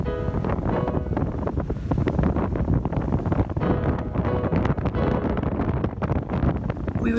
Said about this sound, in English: as we beat our way upwind, but we were comfortable and dry while enjoying the ride